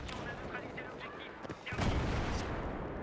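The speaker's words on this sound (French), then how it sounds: "je tire une belle grenade pour faire des points" Grenade explosion in Battlefield 2 on the Strike at Karkand map: a loud low boom near 1.7 s followed by a sustained rumbling tail over steady background battle noise.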